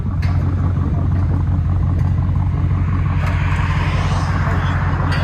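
A BMW X5 xDrive50i with a 4.4L V8 and muffler delete idles with a deep, steady burbling rumble close by, while people talk nearby.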